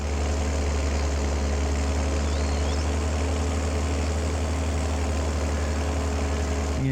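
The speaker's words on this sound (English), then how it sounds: "I do apologise if this tractor comes across very loud" A tractor engine in Farming Simulator 22 drones steadily and loudly at a constant low rumble throughout, with no talking.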